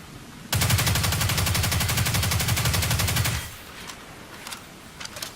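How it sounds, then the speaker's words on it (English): The Riskrunner submachine gun in Destiny 2 fires at roughly 900 rounds per minute, a loud continuous rapid rattle lasting about three seconds, then stopping abruptly, followed by faint scattered clicks and game ambience. "this weapon is gonna fire 15 bullets per second"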